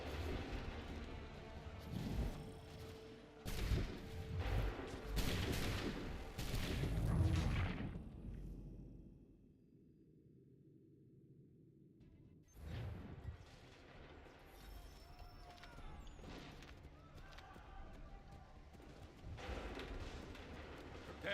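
Musket volleys in Assassin's Creed III, a dense run of loud, booming gunfire crackling over shouted orders for about eight seconds, then a brief near-silent pause before further distant battle noise resumes.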